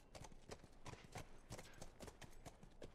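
Steady hoofbeats clop along in a quick, even rhythm, crisp and close, a horse trotting without pause in the video game The Last of Us Remastered, with no talking over it.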